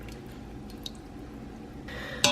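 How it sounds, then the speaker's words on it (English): Sauce is poured over raw chicken in an Instant Pot, giving quiet wet squishing and dripping, faint and close, ending in a brief sharper splash. "you are just going to pour it over your chicken"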